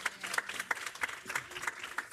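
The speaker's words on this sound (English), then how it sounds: "So a round of applause for that." An audience at a Black Women's Roundtable leadership event claps in brief applause, with a light scattering of sharp, rhythmic claps at moderate distance.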